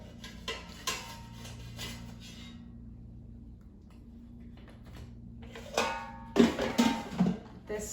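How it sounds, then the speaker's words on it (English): Clattering and clinking as a frozen chimichanga is taken out of an air fryer basket, a few faint knocks at first, then louder metallic handling sounds near the end. "Now let's take it out of the air fryer."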